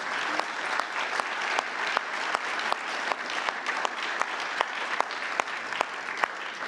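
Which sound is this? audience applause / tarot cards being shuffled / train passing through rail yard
audience applause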